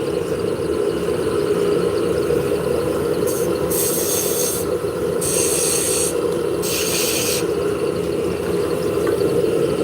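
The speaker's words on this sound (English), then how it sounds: "Starting the lathe back up." A wood lathe spins steadily while turning a drop spindle, giving a continuous close hum. Three short bursts of brighter scraping from a cutting tool rise over it partway through.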